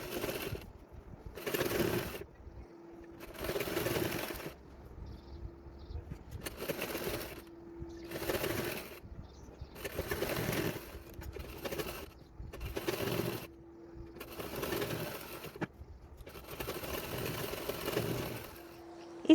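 A sewing machine stitches a seam on a Marathi-style saree in repeated short bursts of fast, whirring stitching separated by brief pauses, close and clear with no talking.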